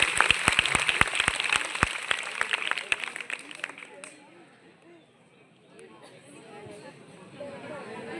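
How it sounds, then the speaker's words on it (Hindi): Students clapping loudly together for their teacher, Neelam ma'am, in a classroom during a Teacher's Day celebration, a dense burst of hand claps that thins out after about four seconds into quieter room noise. "जोरदार तालियां नीलम मैम के लिए।"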